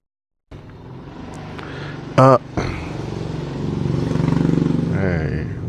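A motorcycle rides past outside, its engine rising from a distant drone to a louder, closer roar and then holding steady, with a brief sharp burst partway through.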